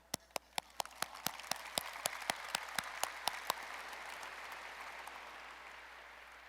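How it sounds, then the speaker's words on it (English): Audience applause at a Gathering Mass event starts with one clear clapper keeping a fast, regular beat up close, then builds into a soft, diffuse wash of many hands clapping across a room. "Yes, he is worth getting a clap for."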